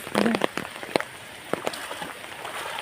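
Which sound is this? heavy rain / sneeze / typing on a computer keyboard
heavy rain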